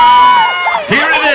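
A crowd at a National School Sport Week event cheers and whoops loudly as Olympic torch bearer Kevin Stewart is welcomed on stage, with high, children's voices rising in excited shouts, close and brief.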